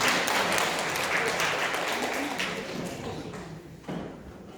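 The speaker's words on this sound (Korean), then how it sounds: "큰 박수로 한번 모셔보도록 하겠습니다" Broad, dense crowd applause fills the space, steady then tapering off toward the end, with a few louder claps near the finish.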